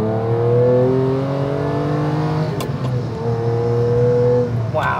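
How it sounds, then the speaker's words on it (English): A Ferrari 456 GT's V12 revs hard while driving, a loud, steady engine note climbing through the gears with a brief dip as it shifts, heard from inside the car. "it's definitely rewarding to take that V12 all the way up to its power peak near its red line"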